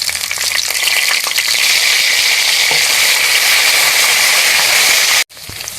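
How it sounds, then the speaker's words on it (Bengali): Chopped tomato sizzles in oil spiced with whole garam masala and cumin for a vegetarian bhog khichuri, a steady loud frying hiss throughout with faint stirring, then a brief cut near the end. "টমেটোটা ভাজা ভাজা হয়ে গলে যাচ্ছে,"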